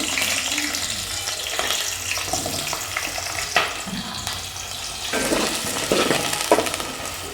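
Onions frying in hot oil for egg curry, a loud, continuous crackling sizzle close up, with occasional stirring scrapes and sharper pops breaking through the hiss.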